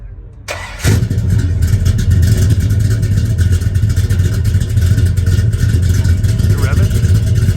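A 1969 Dodge Coronet R/T muscle car engine fires up after a brief starter crank, then holds a loud, deep rumbling idle with slight revs, close by and steady.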